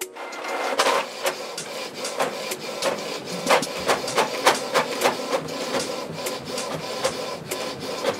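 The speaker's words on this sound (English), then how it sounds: "Let me quickly print from GDrive for a test before I move on." A Canon PIXMA wireless inkjet printer running off a test page, with a steady mechanical whir and a rapid series of sharp clicks and rasping print-head passes at close range and no talk.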